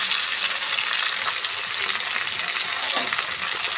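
Marinated fish pieces coated with red chilli powder fry in hot oil, a steady loud sizzle and crackle running throughout with a brief stir or movement near the end.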